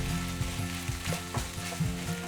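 Kimchi juice or soy sauce hits a hot frying pan of kimchi fried rice with a lively sizzle, crackling steadily with scraping stirs pulsing roughly twice a second, close and clear without talk.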